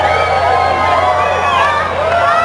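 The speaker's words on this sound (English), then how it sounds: "Crowd's getting excited." A large crowd gathered in New York for the April 2024 total solar eclipse cheers and shouts excitedly, a loud, dense, continuous roar of many voices, with a nearby voice speaking over it.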